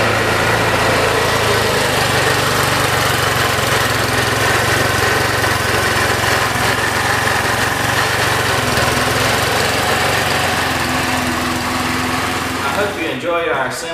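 Linhai Aeolus 150 touring scooter engine running steadily at a loud, close idle with a constant buzzing drone, cutting off abruptly at the end.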